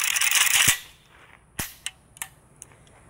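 A Zastava ZPAP M70 AK rifle fires outdoors, with a burst of loud, sharp reports at the start followed by several single shots spaced out, each with a short ringing tail.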